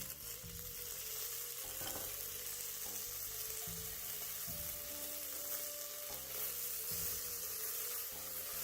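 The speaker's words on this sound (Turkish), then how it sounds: "Yağımızı ve salçamızı koyduk. Kavuruyoruz bu şekilde." Tomato paste frying in hot oil for Yozgat arabaşı, a steady, close sizzle running throughout with occasional stirring scrapes and clinks, no talking.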